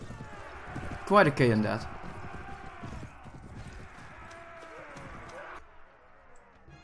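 Cavalry horses in the Mount & Blade video game thunder past with a burst of galloping hooves and a whinny, then battle noise fades under a player's commentary.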